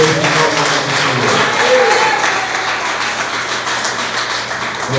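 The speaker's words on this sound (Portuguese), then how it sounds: "Mais palmas para Jesus." A church congregation claps loudly and steadily for Jesus at a Friday morning service. The applause is dense and continuous, with voices mixed in underneath.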